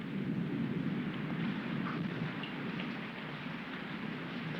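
Heavy rain pouring down during a three-day storm, a dense continuous hiss of drops on surfaces that stays loud and steady, easing only slightly near the end, with no voices.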